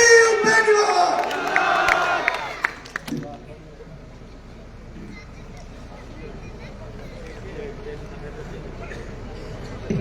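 Crowd at an outdoor BJP election rally in Malkheda cheering loudly for a few seconds, then fading to a low murmur with distant talk and light background noise.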